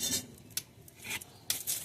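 Hands pressing and shaping a fish tikki kebab mixture, soft close-up squishing and rubbing with a couple of sharper brief slaps, no talking.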